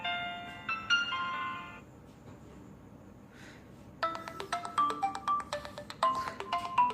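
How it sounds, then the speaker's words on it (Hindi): A Q Infinity B mobile phone plays melodic ringtones: first a short bright chiming phrase, then a pause, then a quicker plinking tune of repeated electronic notes, moderately quiet over a faint hiss. "मैंने आपको इसके रिंगटोन भी सुनाई।"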